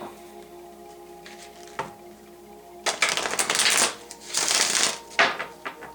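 Tarot cards riffled and shuffled close by, a few soft taps early on, then bursts of crisp flapping card noise in quick clusters with short pauses between.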